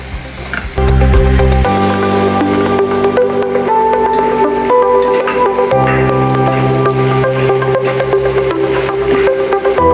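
Chopped onion sizzles loudly in a hot oiled pan, a steady frying hiss with occasional stirring scrapes, close and continuous throughout.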